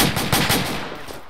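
Sustained machine gun fire in the Arma military game, set in an Afghan village: a rapid, continuous burst of loud, close shots running without pause, no voices.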